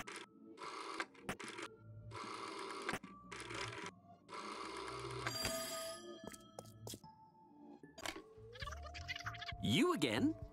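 Repeated ringing bursts of a telephone in the puzzle game There Is No Game: Wrong Dimension, sounding in regular pulses with short gaps, followed by quirky electronic game tones and a rising sweep.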